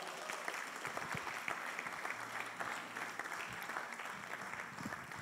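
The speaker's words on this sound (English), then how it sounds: "So we are inviting Sister Maufemo with a hand clap" A church congregation claps together during a Sunday service, a faint, steady wash of hand claps continuing evenly for about five seconds with some background voices.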